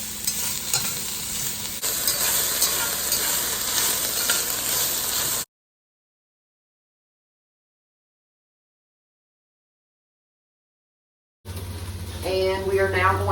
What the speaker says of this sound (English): Alright, it's starting to sizzle.